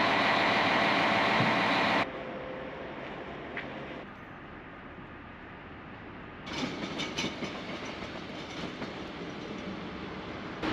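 A Mariazellerbahn train stands idling at a station platform with a low mechanical hum, a louder rumbling stretch at the start and again later, like machinery running.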